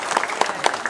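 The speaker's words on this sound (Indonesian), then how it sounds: "Tepuk tangan dulu Pak." A brief patter of audience clapping at an evening religious gathering in Cilacap, Indonesia, a few distinct claps over a steady soft wash of hands, moderately close, with no speech over it.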